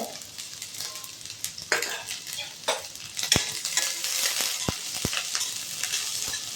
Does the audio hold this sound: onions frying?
yes